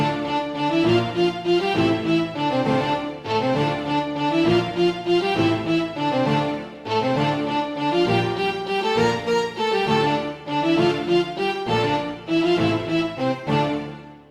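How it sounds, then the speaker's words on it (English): Full synthesizer chords with a melody line on top for a cinematic Afrobeat track made in FL Studio, played continuously at a moderate level with no talking. "So let's listen together with the chords and the melody."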